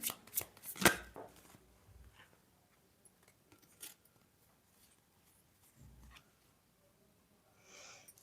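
Tarot cards are shuffled close by in a quiet room, a few soft riffling and tapping bursts early on, then faint scattered rustles.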